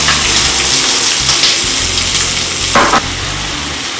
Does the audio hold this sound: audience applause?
no